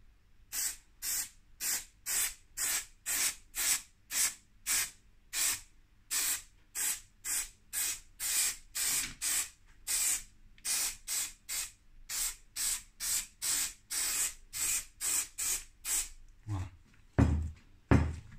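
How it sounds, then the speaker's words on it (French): Short bursts of spray adhesive hiss from an aerosol can in a steady, repeated rhythm, roughly thirty quick close puffs with brief gaps, applied while upholstering a pouf. "Donc la colle a été mise à la bombe"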